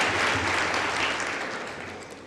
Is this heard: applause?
yes